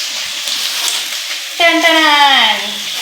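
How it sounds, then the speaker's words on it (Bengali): Potatoes hiss and sizzle steadily in a frying pan, with a short tonal, voice-like sound rising over the frying midway. "এখানে এখন আলু ভাজা বসিয়েছি"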